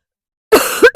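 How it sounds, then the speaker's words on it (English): A sharp burst of coughing from one person breaks out after a silent start, two loud hacking coughs close together with a brief gap between, heard up close outdoors on a small homestead farm. "I went into a coughing frenzy"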